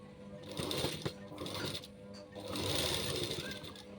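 A sewing machine stitches hanging lace onto a jacket in quick, close mechanical bursts, two runs of rapid clattering needle strokes separated by a brief pause, with no talk.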